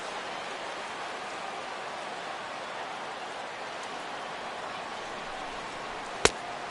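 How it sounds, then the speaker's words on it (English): Rain falling during a baseball video game, heard as a steady, even hiss of rainfall with a single sharp click near the end. "The rain is intensifying right now."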